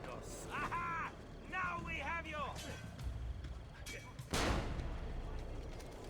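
Shots are fired at archers in Assassin's Creed: Brotherhood, several sharp bangs, one loud burst near the end, set among game sounds with someone talking over them.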